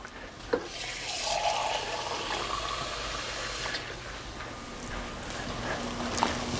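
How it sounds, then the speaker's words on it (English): Tap water pours steadily into a can at a kitchen sink as soup residue is rinsed out, a continuous close splashing rush lasting several seconds with a soft clunk near the start. "take the can over to the sink and fill it about 3/4 of the way up, swish it around to get the rest of that soup out"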